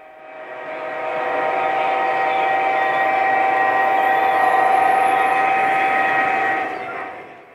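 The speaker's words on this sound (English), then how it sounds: "The train has reached the edge of Winter Valley and the local grain co-op." A 1:29 scale model train runs along a layout, a steady hum with a sustained whistle-like tone that swells in, holds for several seconds, then fades out.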